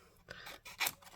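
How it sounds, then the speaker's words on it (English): Scissors fussy cutting a stamped paper image: a few short, close snips and crisp paper scrapes in quick succession, quiet, with no talking. "Trick is turn your paper, not your scissors."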